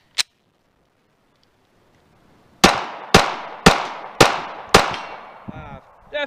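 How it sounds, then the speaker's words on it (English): Five sharp 9mm pistol shots at a steady pace of about one every half second, loud and close outdoors, each ringing briefly; a lone crack sounds earlier after a long quiet gap. "I'll shoot 5 rounds of this 22 and then 5 rounds of the 9"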